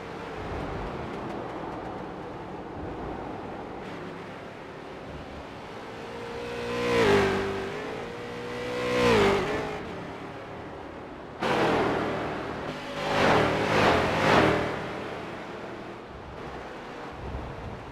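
Race cars run a lap at Watkins Glen, their engine roar rising and falling as they pass, with several distinct swells and a sharp burst near the end, heard from a distance through wind noise.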